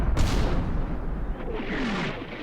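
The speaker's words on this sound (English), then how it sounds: "And then artillery barrage arrives, peppering the south of the map with" Mortar barrage of 81mm rounds landing across a battlefield in the war game Combat Mission Shock Force 2, a sharp opening blast followed by sustained rumbling impacts and debris, loud and continuous with no talk.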